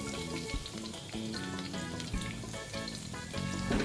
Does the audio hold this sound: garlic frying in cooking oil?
yes